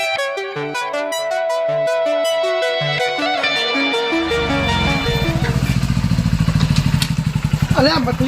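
A motorcycle engine rises and pulses rhythmically as it pulls up close and loud, coming in after a stretch of music.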